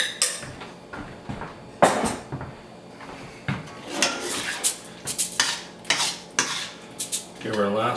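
Kung Pao chicken stirred in a pan, a spoon clattering and scraping against the metal in irregular close knocks and clinks, with a brief drawer-like thud early on and no talk.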